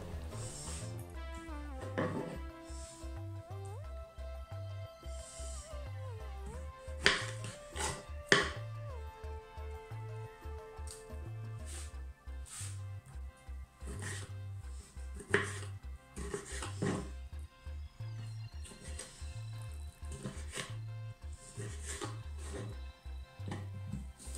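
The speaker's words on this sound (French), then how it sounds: "Je coupe les tomates en morceaux." A knife chops tomatoes into pieces on a board, with scattered sharp taps at irregular intervals. The chops sit faintly under steady background music with a repeating low beat.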